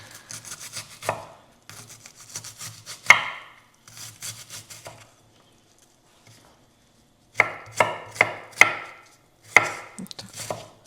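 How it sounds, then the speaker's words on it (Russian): A knife chops onion finely on a board for meat pirozhki filling, coming in quick bursts of close, crisp strokes separated by pauses, with a final cluster of sharper individual chops. "Чем мельче, тем лучше лук режем."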